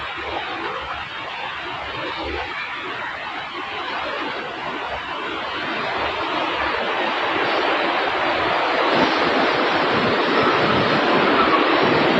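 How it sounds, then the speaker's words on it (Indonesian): Steady, loud rushing of river water flowing out of Malahayu reservoir in Brebes, a dense continuous wash that swells slightly louder in the second half, with no voices. "ini adalah aliran sungai yang dari Waduk Malahayu ya teman-teman"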